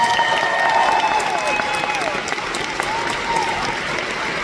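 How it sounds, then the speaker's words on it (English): A convention audience at the Honkai: Star Rail panel at Anime Expo 2025 gives sustained applause, a steady roar of many hands with scattered cheers, holding level for several seconds. "Let's get a round of applause for our amazing answer."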